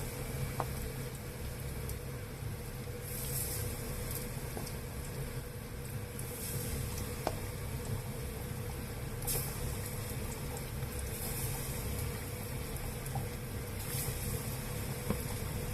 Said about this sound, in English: Pour 2 to 3 centimeters of oil into a frying pan and fry them at 160 degrees Celsius